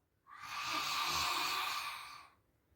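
A single long, breathy exhale through the nose or mouth during a breathing exercise for cough and sore throat relief, close and soft, lasting about two seconds.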